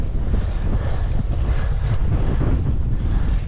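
A strong headwind blasts a cyclist's microphone on a country road. A loud, constant low rumble of buffeting wind fills the whole stretch, with no voice over it.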